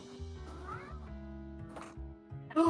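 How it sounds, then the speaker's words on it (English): A pet cat meows softly a few times in the background while game music plays, ending with a brief louder sound. "Yeah, that was my cat."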